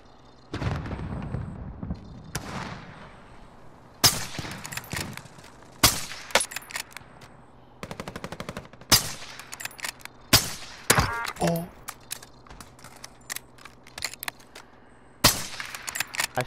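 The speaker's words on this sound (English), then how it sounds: "I sniped him through the wall." Gunfire in the video game Call of Duty: Modern Warfare, with sharp single sniper-like shots and bursts spread irregularly through the clip over a low background hum of in-game ambience.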